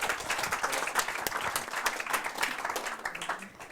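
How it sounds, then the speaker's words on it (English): Applause from the audience at a Startup Grind London pitch event as a speaker is welcomed. Many hands clap in a lively, uneven patter at moderate loudness for several seconds. "let's give a round of applause for Bernice"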